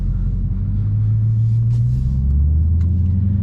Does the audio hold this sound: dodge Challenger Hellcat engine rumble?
yes